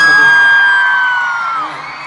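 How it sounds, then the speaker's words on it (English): Fans at a K-pop group's press conference and fan meet in Singapore shout and whoop loudly, high excited voices ringing out close and then easing off after a couple of seconds. "big round of applause for Davey"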